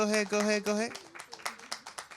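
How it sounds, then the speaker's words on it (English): A voice sustains a melodic tone for under a second, then scattered clapping from an open mic audience continues in uneven, moderately loud claps while the crowd waits for a poet to reach the stage. "Oh, we're going to keep clapping till you get up here."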